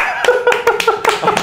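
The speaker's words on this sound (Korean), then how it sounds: "오, 박수 한번 축하드립니다." A small group claps in congratulation for a military officer's promotion to major, giving a handful of sharp, uneven claps over about a second and a half, with faint voices beneath.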